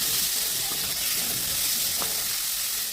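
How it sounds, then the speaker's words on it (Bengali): Potatoes and chopped onions fry in oil with turmeric and salt, a loud, dense, continuous sizzle crackling evenly throughout with no voices. "এখানে দিলাম আমি হলুদ লবণ দিয়ে হালকা করে লালচে করে ভেজে নিচ্ছি"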